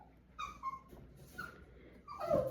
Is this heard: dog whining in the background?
yes